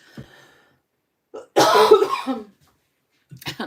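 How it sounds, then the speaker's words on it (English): A person coughs once, sharp and close, framed by a few faint breathy sounds before and after. "I'm going to cough again."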